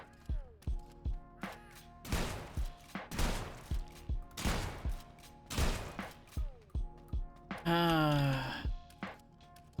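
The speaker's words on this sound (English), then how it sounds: "Shotguns are great for organ harvesting." Shotgun blasts in the video game Sulfur, a rapid series of loud booming shots mixed with sharp clicks and pumping, then a brief rising whine near the end, heard up close.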